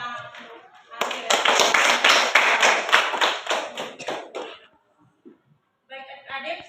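A classroom of students at a Catholic religious education lesson bursts into clapping for a classmate, a dense burst of applause lasting several seconds that fades out, with a teacher's voice speaking before and after.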